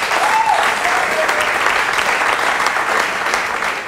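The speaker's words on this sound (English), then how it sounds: "a round of applause for them." A studio audience at a senior high school quiz competition applauds loudly and continuously, a thick wash of clapping with a brief whistle early on.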